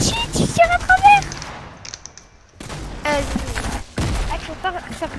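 Rapid automatic gunfire in the Fortnite video game, bursts of shots crackling through the first half and again later, mixed with game effects and someone talking over the action.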